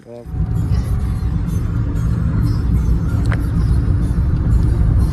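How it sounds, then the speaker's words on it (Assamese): A Maruti WagonR engine rumbles steadily from inside the cabin while driving, a low continuous drone with road noise, no voices heard. "ৱেগেনাৰ লৈ ফুৰিব আহিছোঁ"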